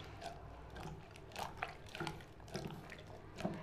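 Water splashing and dripping over chopped vegetables being washed in a vessel for a mixed vegetable dish, soft intermittent sloshes and drips close by.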